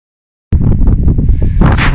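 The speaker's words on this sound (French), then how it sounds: "C'est dommage qu'il y ait autant de vent" Strong outdoor wind buffets the microphone during a metal-detecting outing in the countryside, starting abruptly as a loud, continuous low rumble with gusty surges and a brighter rush toward the end, no talk.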